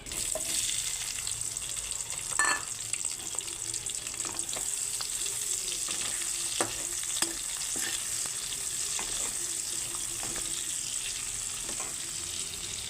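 Bay leaf, cardamom and chopped onion fry in oil in a pan, a steady close sizzle running throughout with occasional sharp scrapes and clicks of stirring, and no voices.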